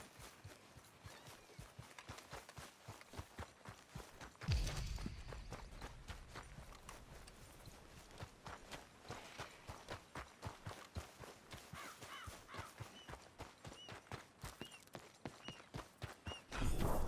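Horse hooves clip-clop in a steady walking rhythm throughout Red Dead Redemption 2, fairly faint and close, with a brief louder thump partway through.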